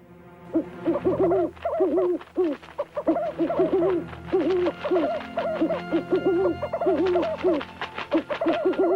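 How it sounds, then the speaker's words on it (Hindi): Owls hoot in a steady series of loud, close, repeated calls that overlap and continue throughout, with no talking. "ये उल्लू ही मुखबिर हैं।"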